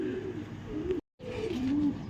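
Pigeons coo steadily on a rooftop loft, a soft low warbling that runs throughout with a brief silent gap midway; no wingbeats stand out clearly.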